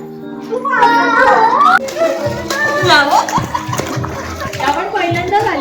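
Children shouting and chattering while water splashes around them in a resort swimming pool, lively and close, with voices dominating over the splashing.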